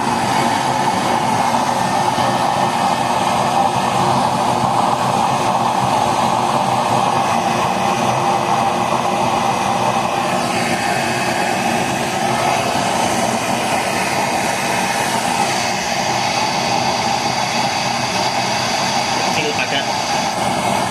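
A waste-oil burner stove driven by a small 4x4 fan gives a steady, loud, continuous roar and whoosh throughout, unchanging in level from start to finish.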